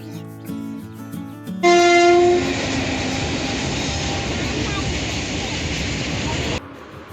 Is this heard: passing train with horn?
yes